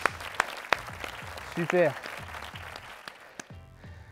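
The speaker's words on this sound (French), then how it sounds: "on peut venir s'applaudir." Participants in a boxing fitness class clapping for themselves, a few sharp, widely spaced claps with a short spoken word in the middle.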